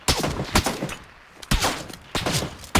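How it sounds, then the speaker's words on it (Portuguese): Gunfire in the battle royale video game PUBG Battlegrounds, three sharp bursts of close shots separated by brief pauses, loud and punchy with no talk over them. "Tô atirando nele, por isso que o tiro tá tão perto."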